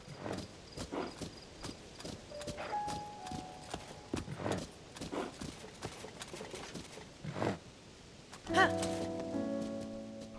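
Horse hooves clip-clop in a steady walking rhythm in Zelda: Tears of the Kingdom, heading up to the Temple of Time, moderately close, followed by a brief tonal game chime near the end.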